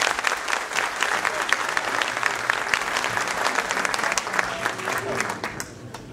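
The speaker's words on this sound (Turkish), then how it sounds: "Alkışlarınız hepimiz için efendim." Applause from a concert audience at a Turkish classical music performance, dense clapping that fills the hall and then tapers off near the end, with voices faintly mixed in.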